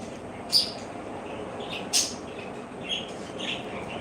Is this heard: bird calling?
yes